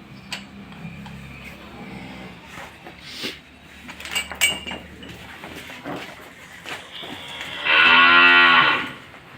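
A Jersey cross cow lows loudly at close range on a farm, one long drawn-out moo near the end after quieter barnyard noises and faint clicks.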